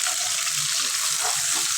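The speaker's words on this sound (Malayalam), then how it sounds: "എണ്ണയൊന്ന് ചൂടായി വന്നതിന് ശേഷം ഇതിനകത്തേക്ക് അരിഞ്ഞു വെച്ചിരിക്കുന്ന 10 ചുവന്നുള്ളിയും കൂടി ചേർക്കാം" Ten sliced shallots hit hot oil in a pan for a Thrissur-style Kerala beef dish, giving a steady, close hiss of frying with a little stirring underneath and no talking.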